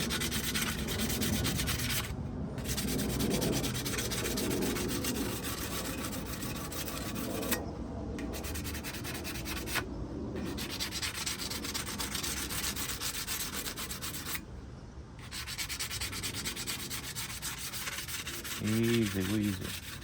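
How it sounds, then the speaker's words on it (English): Rapid back-and-forth scrubbing on a transmission gasket surface of a 2016 Toyota RAV4 XLE, a close, steady abrasive rubbing with a few brief pauses between passes. "I'm gonna scrub on it like a little bit."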